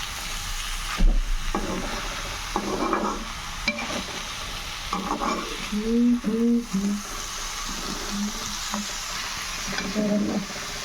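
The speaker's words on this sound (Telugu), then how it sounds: "ఇట్లా బాగా ఫ్రై చేసుకోవాలి" Kaju paneer curry is fried and stirred in a pan, with a steady background sizzle broken by repeated spoon scrapes and clinks.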